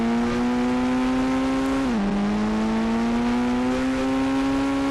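A motorbike engine holds a steady loud drone, dips briefly in pitch, then climbs again as it revs up, close and continuous with no talk.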